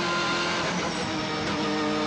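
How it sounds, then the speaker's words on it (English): BMW M3 GTR race car with a 500-horsepower engine accelerating hard around the Nürburgring, a loud, dense, continuous engine roar with steady harmonic drone and faint tyre noise throughout, no voices. "Acceleration, the M3 GTR, 500 horsepower."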